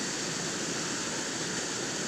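A small stream flowing in rural Indonesia, a steady broadband rush of running water heard close and continuous with no talk.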